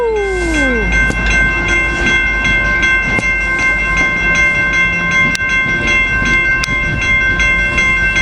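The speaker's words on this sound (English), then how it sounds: "And here goes cab car 2303." A San Diego passenger train with cab car 2303 at the rear rolls past in a quiet zone, wheels clicking and humming loudly and close, with a falling squeal at the start and faint rhythmic clicks throughout.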